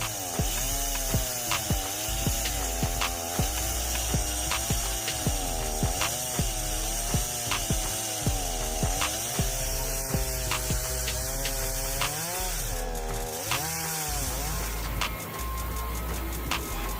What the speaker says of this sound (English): The Alaska Strongway chainsaw can handle logs up to 36 inches in diameter and 13 feet long